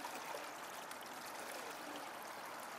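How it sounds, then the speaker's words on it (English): A water hose sprays and washes material out of a KEENE Mini Max gold mining sluice highbanker, a faint, steady hissing rush of running water with no pauses. "I'll use this water hose here to hydraulic the stuff on out of the sluice and into a bucket."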